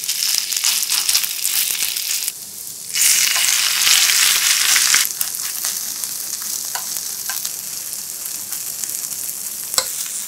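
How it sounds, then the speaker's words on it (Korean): Tuna and rice pancake batter sizzles in olive oil in a four-cup egg pan over medium-low heat, a steady close frying crackle that briefly dips, then surges louder for a few seconds before settling back, with no voices. "중약불에 사구 계란팬 올리고 올리브유 약간씩 반죽을 모양에 맞게 도톰하게 올려줍니다."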